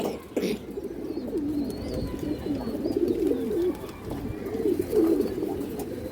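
Pure-bred pigeons coo steadily in low, rolling murmurs, several birds overlapping close by, with faint rustling in the background.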